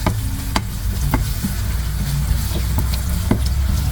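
Onions with ginger garlic paste sizzle loudly in hot oil, close up, with a constant frying hiss and sharp clicks of a spoon stirring the pan every second or so.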